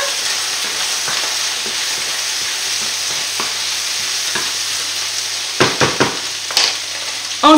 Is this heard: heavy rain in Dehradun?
no